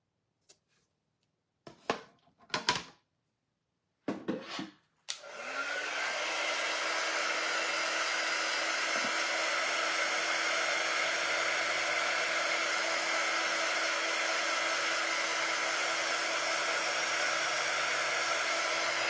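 Hair dryer blowing steadily on a freshly decorated lantern sign, switched on after a few brief handling knocks and running loud and continuous close by with a constant whirring tone, no voices.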